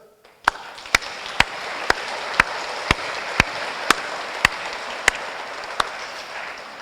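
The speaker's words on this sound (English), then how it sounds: "A round of applause for that paper" An awards-ceremony audience applauds a winning paper: a broad hiss of crowd clapping, punctuated by one loud, evenly spaced clap roughly twice a second near the microphone.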